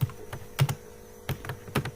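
Computer keys clack while code is typed, a few quick clustered keystrokes close up in a quiet room.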